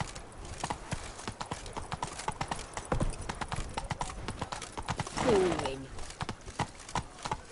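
Roach, the horse in The Witcher 3, gallops with rapid, close clip-clop hoofbeats, and a short whinny comes partway through; a voice speaks briefly over the hooves.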